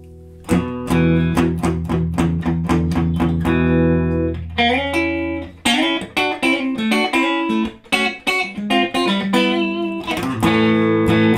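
Electric guitar played through a Nocturne Atomic Brain pedal in normal mode with all controls at noon, giving a loud, saturated tone with a run of rapid picked single notes that gives way to chords, rhythmic stabs and sustained notes, with no talking.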